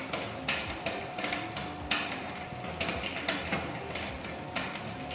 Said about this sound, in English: keep turning the fine-tune knob until it rubs the third smallest sprocket